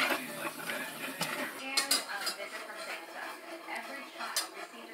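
Flour and butter roux cooking in a pan on a stove for macaroni and cheese sauce, with faint clinks of a utensil against the pan and a low background sizzle, quiet and close, and scattered metallic taps throughout.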